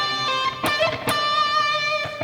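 Distorted electric guitar plays a quick trill lick from a solo, starting on G with hammer-ons and pull-offs, rapid alternating notes and a couple of sharp picked attacks, no talking.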